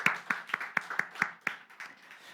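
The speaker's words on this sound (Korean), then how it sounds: "감사 영광의 박수로 드리겠습니다." A church congregation claps together in a steady, even rhythm, about ten sharp claps close together that then fade out.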